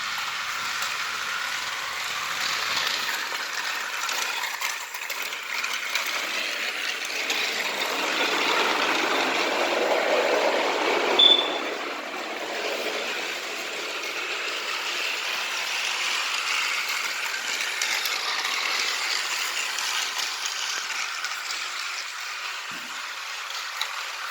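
A motorized Thomas and Friends Trackmaster toy train, Gustavo, running along plastic track with a continuous whirring, rattling drone that holds steady throughout, close and fairly loud with a brief click around the middle.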